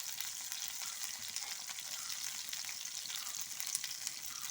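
Curry leaves and green chilli sizzle in hot oil, a close, steady hiss of frying with fine crackles throughout and no talk.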